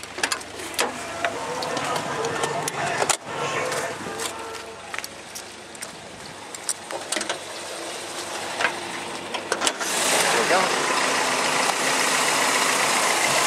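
A Toyota 22R-E engine idles under the hood of a 1984 Celica GT coupe, a steady low running hum broken by scattered clicks and knocks nearby, growing louder and fuller toward the end.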